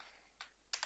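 Keys clacking on a computer keyboard during a coding session: a faint soft keystroke, a short pause, then two quick taps close together, heard near and alone against a quiet hiss.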